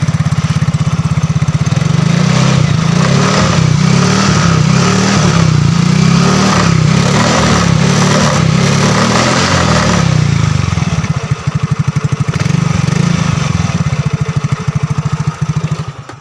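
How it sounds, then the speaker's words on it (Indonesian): A motorcycle engine, recently smoking, runs at idle close by with a loud, steady, rapid throbbing putter that loosens slightly near the end. "sekarang teman-teman saya akan tes apakah motornya masih berasap atau tidak. Kita akan coba hidupkan."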